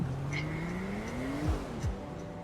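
Video game motorcycle revving and accelerating, with the engine pitch climbing and shifting alongside a brief tire-squeal-like sweep, fairly close and unbroken by speech.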